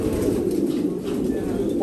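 A racing pigeon coos in low, soft, throaty pulses close by, repeating steadily for a couple of seconds over a light background hiss.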